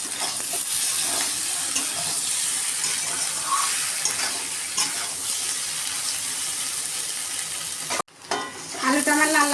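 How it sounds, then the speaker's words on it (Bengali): Potatoes frying in a pan with slit green chillies, a steady close sizzle with stirring clatter throughout; near the end it briefly drops out, then returns louder with a brighter crackle. "আলুটা আমার লাল লাল করে ভাজা হয়ে গেছে।"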